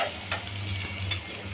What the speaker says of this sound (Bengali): এখন আমি মটরশুঁটিটা আপনার মশলার মধ্যে 7-8 মিনিটের মতো এভাবে ভেজে নিছি